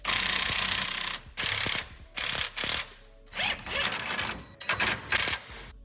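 An impact wrench on its lowest setting tightens the lowering block bolts on a Toyota pickup truck in a run of loud, close rattling bursts of varying length, with brief gaps between them.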